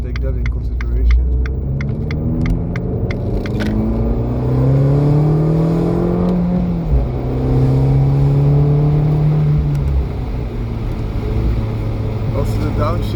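Abarth 595C Turismo with a Record Monza exhaust and MTA gearbox, roof open, revving and pulling through gears with rising engine tones, then downshifting with blips, loud and close, while a person talks over it.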